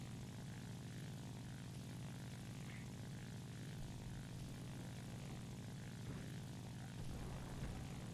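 A P-61 aircraft in the War Thunder video game gives a steady, faint propeller engine drone, a low continuous hum that holds even for the whole stretch without speech.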